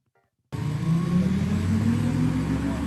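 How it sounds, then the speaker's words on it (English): After a brief silence, a steady synthetic engine drone from an Audi electric car starts abruptly and holds at an even level, like a car's artificial motor sound. "This replicated engine noise was developed not just to give the car audio appeal"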